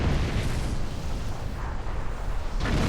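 A broad, rumbling explosion roars in the space-combat game Star Trek Online, surging loudly, dipping, then swelling again in a dense wash of noise.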